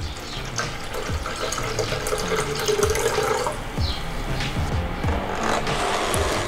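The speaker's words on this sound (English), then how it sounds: "And a little bit more than 2 cups of water, which is approximately 500 milliliters." Just over two cups of water poured into a blender holding oats for homemade oat milk, a steady rushing, splashing stream that runs for the whole stretch, fairly close and loud, with no talking.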